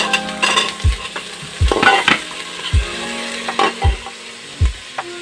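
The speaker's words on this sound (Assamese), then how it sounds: "ফ্লেমটো কমাই ৰাখিব, তাৰ লগতে দিব কাবুলী চানাখিনি ঢালি," Kabuli chickpeas go into a pan on low flame for chole pulao, making a close, lively sizzle. Stirring scrapes and a few utensil knocks against the pan recur every second or so.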